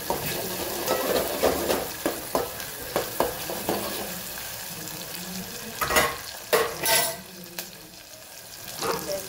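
Onion and tomato fry for dal in a pan over a full flame: a steady sizzle runs throughout, broken by several louder scraping bursts of stirring.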